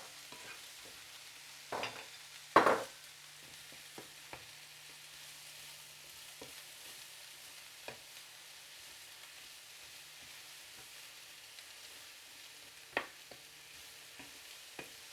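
White and red onions fry in a pan with a faint, low sizzle, broken by a few sharp knocks and scrapes of stirring early on, then settling into a quiet hiss.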